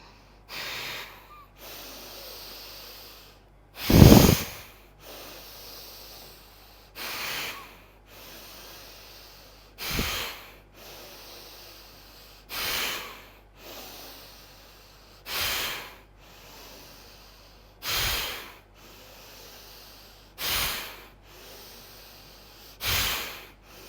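Warming yoga breathing exercise during a hatha yoga session: sharp, forceful nasal exhales repeat at a steady slow pace, about every two to three seconds, close and clear over a quiet background.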